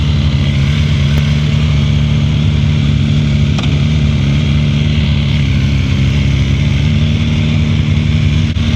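A 2024 BMW M1000R M Competition motorcycle roars steadily under acceleration while being ridden, a loud, continuous engine drone with strong low tones and wind rush, heard up close with no talking.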